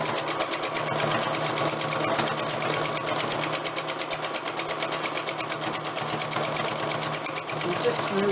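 A domestic sewing machine doing free machine stitching runs in a fast, steady mechanical rattle of rapid needle strokes, loud and close, with a faint pulsing rhythm throughout and no voice heard.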